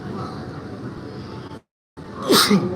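A man with hay fever sneezes loudly and close up, a single sharp burst after a brief silence, preceded by a steady background hum.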